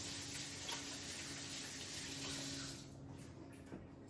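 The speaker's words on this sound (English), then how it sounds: "So I am actually going to first wash my hands" A kitchen tap runs steadily as hands are washed, a soft continuous stream of water that thins out and turns quieter near the end, with a few faint clicks and no talking.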